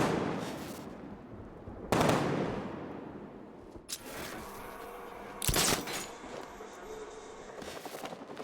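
Gunfire in the Batman Arkham Knight video game: a few sharp, loud bursts stand out over steady game ambience and rumble, with a brief voice heard partway through.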